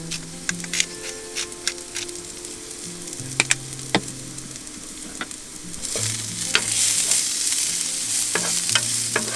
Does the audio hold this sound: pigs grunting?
no